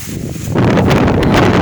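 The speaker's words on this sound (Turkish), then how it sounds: "Oo şimdi rüzgar alıp götürecek mi yoksa?" Wind gusts buffet the microphone outdoors while plastic-bag kites fly, rising abruptly into a loud, rough rush of blowing air.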